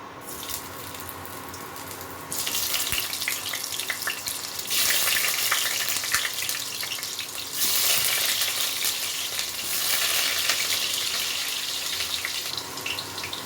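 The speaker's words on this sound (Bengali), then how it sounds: "প্রথমে আমি এই আলুটা ভেজে নেব।" Potatoes fry in mustard oil in a wok, a loud, steady hissing sizzle that starts quieter and surges louder in waves as the pieces are moved.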